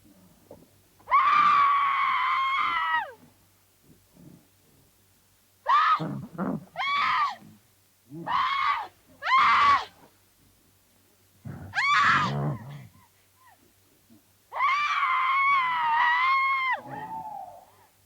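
A woman screams over and over in the 1986 horror film Devil Story, long shrill wails and shorter shrieks in separate bursts with quiet gaps between them.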